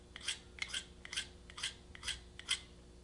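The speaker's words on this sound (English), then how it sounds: "Take the sharpener, only the corner, touch, and slide it up the blade." A handheld knife sharpener scraped by its corner along a knife blade, giving six short, evenly spaced metallic rasps about half a second apart, close and fairly quiet, with no one talking.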